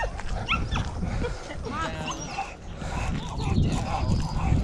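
Dogs met outdoors on a morning walk bark, yip and whimper excitedly in a busy, close, fairly loud stretch of overlapping calls with steady background noise.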